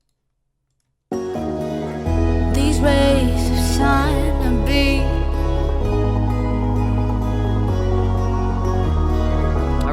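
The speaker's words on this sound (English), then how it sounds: "another layer I add right here is the breakdown sub" Deep, compressed sub bass from a Harmor Simple Bass preset drones steadily as a breakdown layer, holding sustained low notes that shift pitch every couple of seconds beneath a sung vocal line and bright synth textures in a dense electronic mix.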